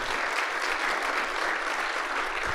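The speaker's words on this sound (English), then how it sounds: "If I could get a round of applause for all of those" Steady, dense applause from an audience at an annual general meeting, even and sustained across the whole stretch with no voices standing out.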